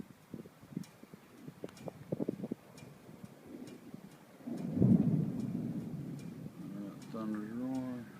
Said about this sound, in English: Thunder's roaring.